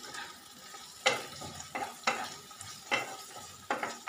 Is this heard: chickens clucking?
no